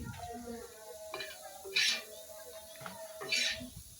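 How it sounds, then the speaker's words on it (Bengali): Onion, garlic and dried red chillies fry together in a pan, a light sizzle mixed with occasional clatters and scrapes of a utensil against the pan, close by. "পেঁয়াজ রসুন সবগুলো একসাথে ভেজে নিতে হবে"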